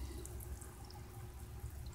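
Alum tanning solution mixed with salt fizzes and bubbles up with suds, a steady soft watery crackle and drip heard close and alone, without any talking.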